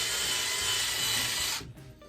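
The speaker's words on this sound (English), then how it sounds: "what I'm going to do is I'm going to pre-sink these screws." A screwdriver drives screws into the wood of a cigar box guitar, a loud close grinding whir running steadily before cutting off abruptly near the end, with no talking.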